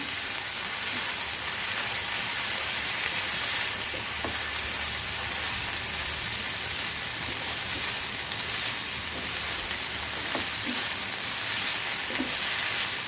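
Chopped potatoes fry in oil for vegetable noodles, giving a dense, steady sizzle that lasts throughout, with a few faint clicks of a utensil.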